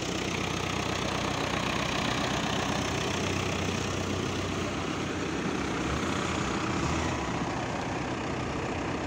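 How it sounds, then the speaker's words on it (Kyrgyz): A large tractor idles at an outdoor vehicle market with a loud, continuous, even rumble that runs unbroken for about nine seconds, close by and with no voices. "Мыкты трактор экен."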